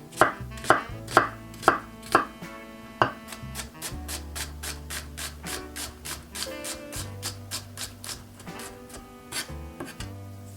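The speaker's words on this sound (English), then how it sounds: "I'm gonna begin dicing the onion" A knife dicing onion on a cutting board for shrimp egg drop soup, crisp close chops in a steady rhythm, at first spaced and louder, then quicker and lighter, over faint background music.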